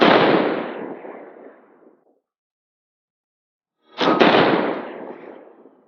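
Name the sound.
6.5 Creedmoor rifle shot, Federal Premium 130 grain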